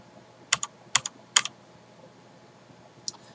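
Four quick bursts of keystrokes on a SteelSeries 6Gv2 mechanical keyboard with Cherry MX Black switches, three clustered near the start and one lone tap after a pause, crisp and close against a quiet background.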